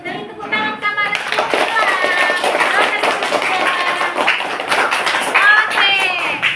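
A primary school classroom full of children clapping together, dense and lively, with young voices calling out over the applause.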